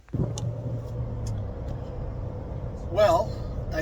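A car is driven down a rough, treacherous road, giving a steady low engine rumble and jostling road noise throughout, with a brief muffled voice near the end.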